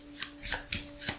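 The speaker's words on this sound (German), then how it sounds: "Dann müssen wir das Patrouillendeck mischen, um die nächste Miliz zu platzieren." A deck of cards from the Maquis board game being shuffled by hand, several soft riffling swishes in quick succession, close and fairly quiet over a faint steady hum.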